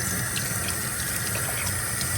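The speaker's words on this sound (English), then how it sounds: "And just a little warm water." Steady warm water pouring from a faucet onto an RV air-conditioner filter, a continuous even splashing rush with no voices.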